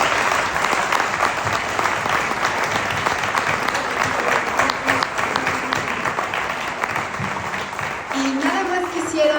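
A lecture audience at a talk on Ignacio Ramírez and Carlos Monsiváis breaks into sustained, lively applause with dense clapping throughout, fading slightly near the end as a voice begins to speak.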